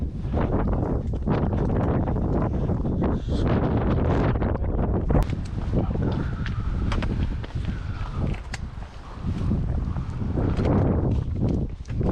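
Strong wind on an exposed mountain ridge in the Yeongnam Alps buffets the microphone, a loud, continuous roaring rumble that barely lets up for the whole stretch, with no talking.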